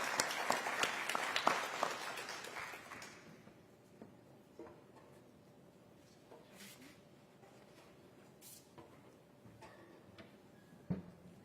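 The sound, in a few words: audience applause welcoming special guest at airport announcement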